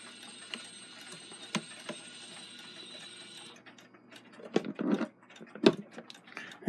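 An Edison phonograph's clockwork mechanism runs slightly fast, giving a faint steady whir and hum, then stops, followed by irregular mechanical clicks and clunks of handling, quiet and close.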